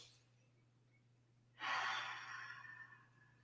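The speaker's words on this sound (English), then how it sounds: "you can be breathing out through your mouth like that" A single breath is pushed out through the mouth during a Pilates mobility class, a close, breathy whoosh that swells suddenly and fades over about two seconds against a quiet room hum.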